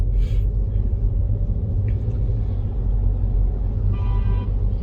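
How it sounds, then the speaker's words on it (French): A car horn honks in traffic, with short tonal bursts at the start, around two seconds and near four seconds, over a heavy, constant engine rumble from inside a moving vehicle during a driving lesson. "Il est pas content, il klaxonne."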